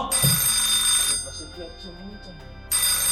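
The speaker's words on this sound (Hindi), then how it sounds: "जाओ फोन उठाओ यार" A telephone rings indoors in a Hindi drama scene, a loud bright electronic ring that cuts off partway, leaving soft voices and background sound before a second burst of ringing at the end.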